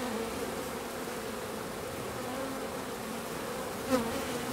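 Honeybees buzz at a beehive entrance, some carrying pollen, in a steady, dense drone with a single louder pass near the end.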